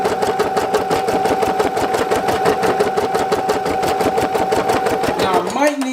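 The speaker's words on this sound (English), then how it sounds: "We'll just go ahead and replace it real quick and continue our stitch in the exact same spot." A Brother SE1900 embroidery machine stitches at a rapid, steady mechanical rhythm nearby, and the needle clatter winds down and stops just before the end.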